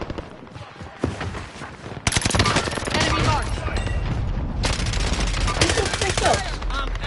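Heavy automatic gunfire erupts in a team-based shooter, arriving in loud, sustained close bursts after a quieter opening, with players' voices faintly beneath.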